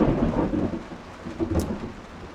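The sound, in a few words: thunderstorm with rain in Texas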